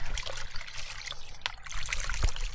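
Water from the Jouvence spring near Lac du Salagou trickles and splashes steadily, close by and moderately loud, with no speech.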